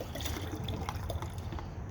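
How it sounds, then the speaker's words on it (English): A spray bottle is filled with water from a tap, making a continuous close gurgling trickle with small splashy fluctuations throughout. "I can just fill this bottle up with water and should be fine,"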